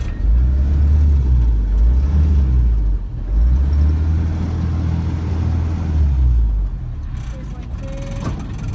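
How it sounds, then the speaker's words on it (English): Sailboat motor running steadily at close range, a loud low rumbling drone that swells and dips in two long surges before easing near the end, with people talking over it. "Turn the motor off for me."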